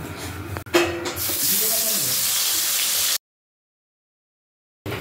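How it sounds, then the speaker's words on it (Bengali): Dry red chillies and nigella seeds dropped into hot oil for tempering, a sudden sharp crackle that settles into a steady loud sizzle before cutting off abruptly. "শুকনো লঙ্কা আর কালো জিরে ফোড়ন দিয়ে দিলাম"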